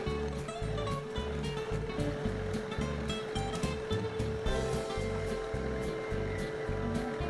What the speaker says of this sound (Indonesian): Kita mixer menggunakan kecepatan yang paling tinggi atau kecepatan maksimal sampai dia putih, mengembang,